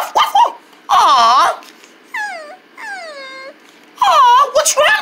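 A cartoon dog whimpers and whines in a few drawn-out, wavering pitch slides, close and clear, set between louder bursts of voices.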